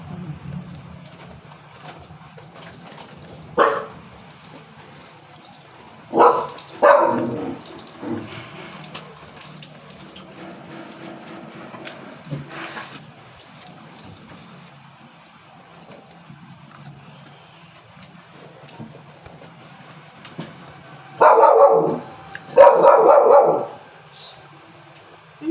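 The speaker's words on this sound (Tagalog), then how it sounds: "Maingay yung aso namin." A dog barking in short loud bursts at a few scattered moments, with a cluster of repeated barks near the end, over a quiet room background.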